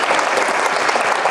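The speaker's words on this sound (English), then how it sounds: "a round of applause for Ugandi and the organization." Dense audience applause at a roundtable dialogue event, a steady wash of many hands clapping at close range with no pauses across the short stretch.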